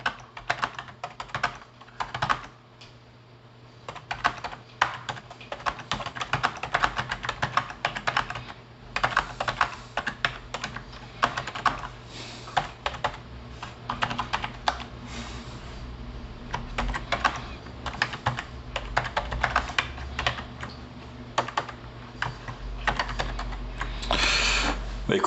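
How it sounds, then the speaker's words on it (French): Typing on a Logitech K545 wireless keyboard into a word processor, with soft, fairly muted key clicks in a steady, busy stream for about 25 seconds, close up with no talking. "On va essayer de taper un petit peu."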